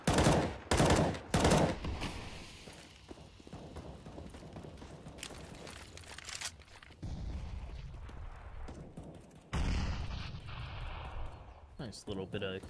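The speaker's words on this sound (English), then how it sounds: "Nice little bit of chunky nade thrown down on towards Kusta." In a CS:GO esports match, a few sharp gunfire bursts open the scene, followed by rumbling in-game combat and a loud grenade blast, all under continuous fast-paced commentary.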